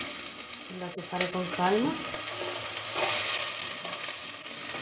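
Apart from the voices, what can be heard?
onion frying and sizzling in hot oil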